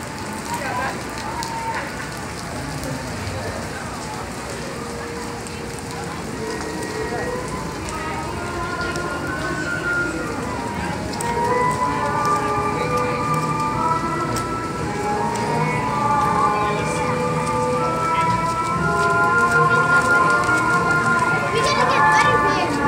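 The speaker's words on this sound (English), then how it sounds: "even with the rain, it just makes it heavy. Yeah, more rain." Rain falling outdoors, a steady dense patter that grows slightly heavier over time, with voices talking over it.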